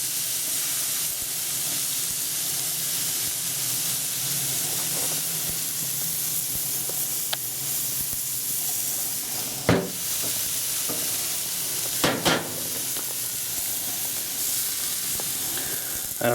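Food sizzling steadily on a closed-lid barbecue grill, a constant hiss with a couple of brief clicks and knocks.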